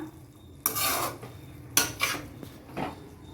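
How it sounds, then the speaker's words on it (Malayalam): Noodles stirred in a pan after the lid comes off, a few scraping, clinking strokes of the utensil against the metal in separate bursts over a soft, steady sizzle. "നമുക്ക് ഇതൊന്ന് തുറന്ന് നോക്കാം കേട്ടോ ഒന്ന് ഇളക്കി കൊടുക്കാം"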